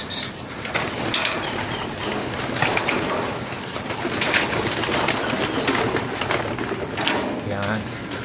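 Pigeons are let out of an opened loft trap, cooing and wing flutters mixed into a dense, steady flock noise, with someone talking over it.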